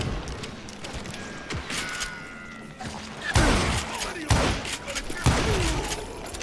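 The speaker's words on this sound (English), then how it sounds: "Kid Curry opened up on me with a goddamn Gatling gun" Gatling gun fire in the Western shooter Call of Juarez Gunslinger, with sharp bursts of rapid shots and heavy impacts growing louder in the second half, over scattered mechanical clatter.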